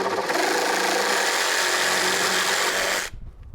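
A power drill runs loudly at a steady high whine for about three seconds, then cuts off abruptly.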